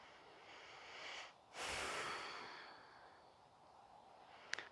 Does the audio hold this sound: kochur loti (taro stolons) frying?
no